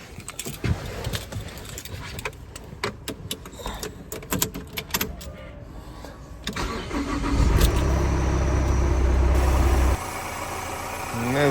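Keys rattle and click, then a 2.0 diesel engine in a 2008 Opel Zafira cranks and catches, settling into a loud, rough idle that continues steadily.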